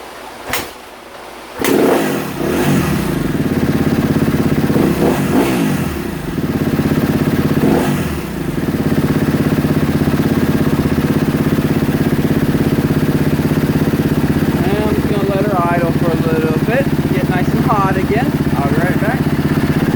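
A Kawasaki KX250F dirt bike that has been sitting a while starts with a sharp burst, then idles and revs in rising and falling surges, a steady loud engine drone throughout with someone talking over it.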